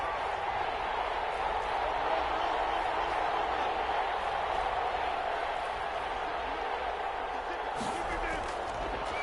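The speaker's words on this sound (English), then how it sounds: "That just means this crowd's going to get even louder." Stadium crowd roaring at a PS4 American football game with the Green Bay Packers, a steady wall of distant cheering that carries on throughout under commentary, with a brief louder thump near the end.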